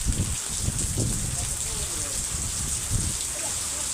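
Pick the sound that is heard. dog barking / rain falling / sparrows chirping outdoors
rain falling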